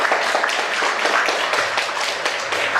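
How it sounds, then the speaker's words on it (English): Audience members at a film workshop applaud a guest, a short, lively burst of close, dense clapping that stays loud the whole time. "Give the big applause to John Cooper."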